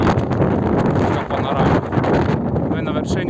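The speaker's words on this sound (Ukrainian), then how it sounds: "Трошки вітер тут у мене вже такий." Steady, loud wind buffeting the microphone on a mountain top near Blyznytsia in the Ukrainian Carpathians in October, a broad roaring rush with brief gusts and dips; a voice speaks faintly underneath.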